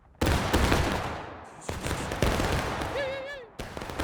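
Massed musket volley fire in the American Civil War game War of Rights, a loud ragged crash of many shots at once followed by scattered reports and echoes, with a shouted command and a whistling sound near the end.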